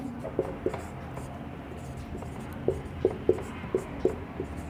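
Chalk or marker writing on a board during a Class 11 maths lesson on linear inequalities, a few faint strokes followed by a string of sharp taps and scratches, close by and alone with no talk.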